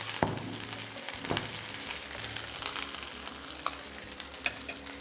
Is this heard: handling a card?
no